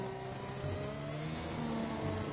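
Car engine from a sim racing game, a Hennessey Venom, droning steadily with rising and shifting harmonic tones like revving through gears, moderately loud and continuous with no talk.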